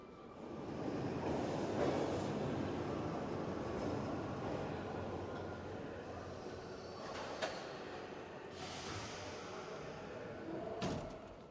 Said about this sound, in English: They took us down into the depths of the Pyongyang Metro.